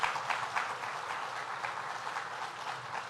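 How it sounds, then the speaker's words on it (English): An audience at a state government event applauds together in a dense, sustained burst of clapping that stays at an even level with no voices over it. "So Fred Kowal, let's give a round of applause here."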